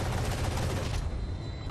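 Odin heavy machine gun from Valorant firing a sustained, dense burst during a pro esports match, loud and continuous, with no talk over it.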